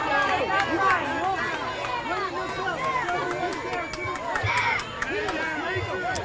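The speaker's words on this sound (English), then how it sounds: "Big crowd here tonight" Crowd noise at a youth baseball game with over two hundred spectators on field 2: a steady murmur of chatter and scattered shouts, with voices prominent over the babble throughout.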